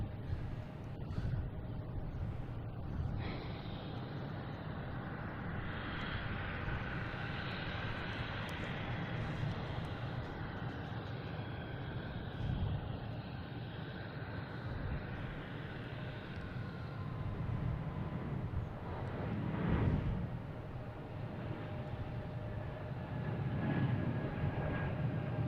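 A JetBlue airliner departs Boston Logan bound for DC, its engines a sustained broad roar at middle distance that builds and surges in waves, rising most strongly toward the end.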